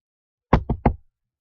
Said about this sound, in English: Look, I see a door just ahead. We should knock on it.